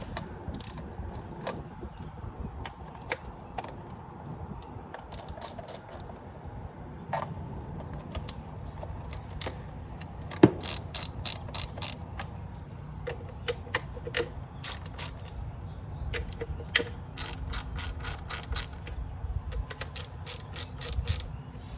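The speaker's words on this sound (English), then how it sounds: "Take a 10mm socket. Loosen up all these bolts." Quick bursts of ratchet clicking come from a 10mm socket loosening bolts in the engine bay of a 2011 Honda Element, with repeated short runs of clicks and a few metallic taps, close and fairly quiet, no talk.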